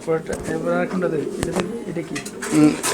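Lahori pigeons coo in soft, throaty bursts, heard close alongside a person speaking.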